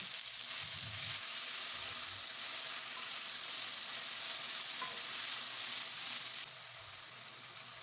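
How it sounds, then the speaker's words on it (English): Chopped tomatoes are added to a sun-dried tilapia and coconut sauce, sizzling in a steady hiss with soft stirring scrapes, the frying noise dropping slightly toward the end. "Stir occasionally. Add in your chopped tomatoes."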